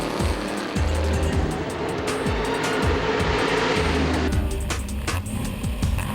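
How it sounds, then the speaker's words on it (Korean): A race car speeds around a racing track, its engine rising and falling in repeated sweeping passes, loud and close, with high revving tones and no speech. "라이벌인 나우키 선수는 김의수 선수가 멈춰선 사이 트랙을 질주하고 있다"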